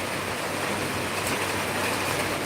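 Rain falling in Chennai makes a steady, dense hiss of water throughout, fairly loud and even, with no voices.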